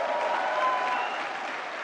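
Loud, sustained applause from a large audience at the National Film Awards ceremony, steady dense clapping that fills the whole moment without a break.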